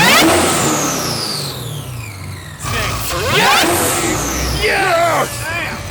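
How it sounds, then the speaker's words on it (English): A 1150-horsepower supercharged Camaro SS revs hard nearby, loud rising and falling engine sweeps with repeated blips and a brief cut before roaring again, with voices in the background. "Supercharged engine."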